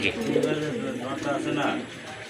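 Large Blondinette pigeons coo in low, rolling, throaty calls close by at a pigeon sale, with people talking over them.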